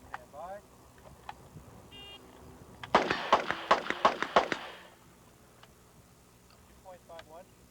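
Rapid string of about ten loud, sharp revolver shots at a steel shooting match, fired in quick succession over roughly two seconds, with faint voices and quiet chirps before and after.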